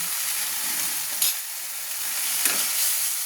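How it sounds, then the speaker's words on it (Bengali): Spice masala with turmeric frying in a pan, a steady close sizzle with a couple of brief scraping stirs from a utensil, and no voices. "মশলাটা ভাজা না হওয়া পর্যন্ত আমি নাড়তে থাকবো।"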